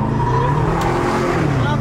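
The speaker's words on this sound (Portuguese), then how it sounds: "Eu tô dirigindo o Camaro 2015." A 2015 Chevrolet Camaro is driven, its engine a steady, loud drone heard from inside the car throughout, with a faint squeal-like hiss once.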